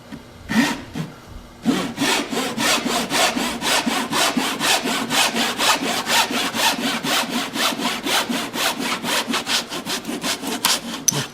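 A Japanese hand saw cuts through wood in quick, even back-and-forth strokes, loud and close, after a few tentative starting strokes.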